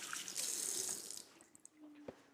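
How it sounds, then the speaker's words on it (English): Kitchen tap running while hands are washed, a soft steady stream of water that stops partway, followed by faint drips and light clinks nearby. "Right, just gonna wash my hands."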